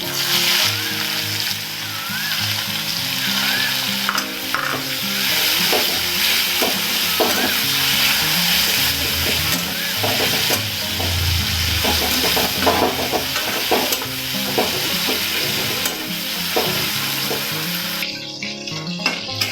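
Thinly sliced onions hitting hot mustard-seed-scented oil left from frying fish, a loud close sizzle that continues steadily with stirring and spoon scrapes for about twenty seconds.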